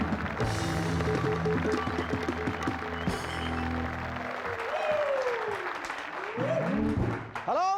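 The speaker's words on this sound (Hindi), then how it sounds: "जोरदार तालियों से स्वागत कीजिए" A studio audience on a Hindi comedy show bursts into sustained, dense applause, loud and steady for several seconds before fading under a voice and some music.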